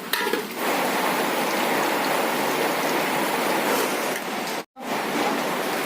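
Whole garlic cloves fry in a pan until well browned, producing a dense, loud, continuous sizzle like heavy rain that holds steady, broken only by a brief gap near the end.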